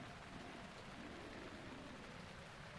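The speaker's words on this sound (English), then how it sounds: "Oh, but it's raining though." Steady rain falling in Zelda: Breath of the Wild, a continuous even hiss of drops with a soft low rumble beneath, moderately quiet and unbroken throughout.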